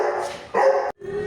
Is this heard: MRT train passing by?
no